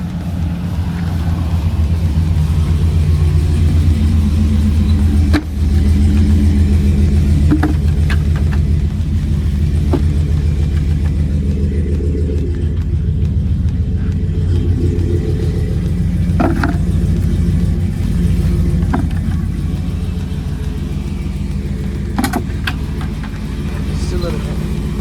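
Pickup truck engine held at high revs during a burnout on soapy water, a loud steady low rumble that drones on throughout with slight surges, people talking faintly beneath it.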